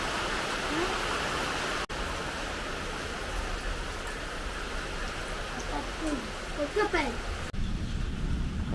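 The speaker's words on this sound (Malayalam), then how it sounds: "കുറച്ചു മുമ്പ് വന്ന് നല്ല മഴയുണ്ട് അത് തോർന്നിട്ടില്ല ചെറിയ ചാറ്റൽ പോലെ ഇങ്ങനെ നിൽക്കുക" Light rain keeps falling after a heavy red-alert downpour, a steady, even hiss throughout, with faint voices briefly in the background.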